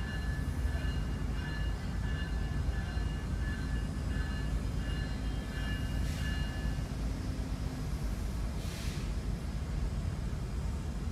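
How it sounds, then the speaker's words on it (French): A VIA Rail train led by a Genesis locomotive arrives, a steady broad rumble with wind-like noise, a sustained horn-like tone, and brief hissing bursts toward the end. "It's a Genesis locomotive."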